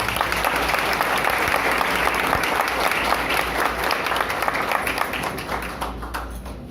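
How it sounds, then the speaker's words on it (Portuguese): An audience at the Mansão do Caminho spiritist centre in Salvador applauds to welcome speaker Marcel Mariano, a full, sustained round of clapping that slowly tapers toward the end. "com os aplausos"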